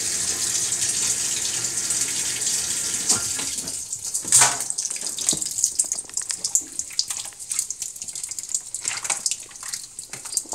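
Cold water fills a Maytag MVWX655DW1 top-load washing machine during a deep water wash cycle, a steady rushing hiss that later turns splashier and more uneven, with intermittent drips and gushes and no talking.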